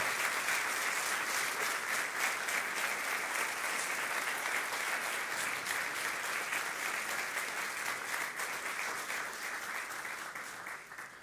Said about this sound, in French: on applaudisse très très très très fort